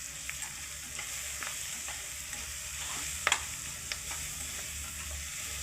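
Ground spice paste sizzles steadily in a pan while fish curry is being cooked, with scattered spoon scrapes and clicks from stirring and one sharper knock midway; quiet, with no talking.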